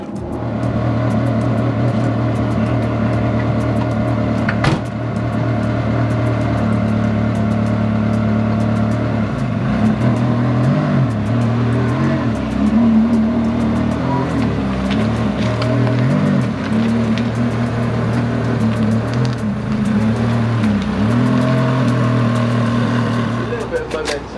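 Car engine idling and revving in a garage as cars are shuffled beside a Ferrari 512 BBi, a loud steady rumble with shifting drone and occasional revs running throughout.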